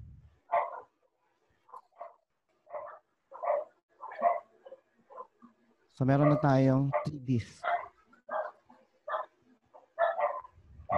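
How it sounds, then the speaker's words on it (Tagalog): A dog barks repeatedly outdoors near a room where storage server disks are being set up, a burst of sharp barks in the middle, with people talking over and around it. "May aso pare. Baka makagat kayo."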